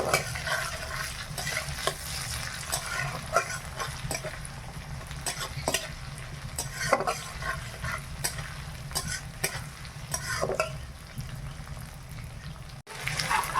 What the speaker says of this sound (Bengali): পেঁয়াজ আর টমেটোটা ভাজা হয়ে গেছে